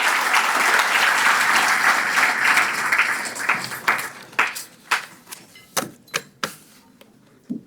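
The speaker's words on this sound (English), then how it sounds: "Another round of applause to them." Guests at a charity relief dinner give a round of applause: a dense, loud wash of clapping that thins out into a handful of sharp, separate claps before dying away.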